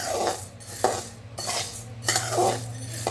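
Wheat grains roasting in a pan for thalipeeth bhajani are scraped and turned with a metal utensil in four or five rhythmic, clattering strokes over a low steady hum, with no voices.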